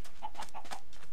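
Chickens cluck in the video game Minecraft, about four short, evenly spaced clucks that are fairly clear over a steady background hiss, with no talk.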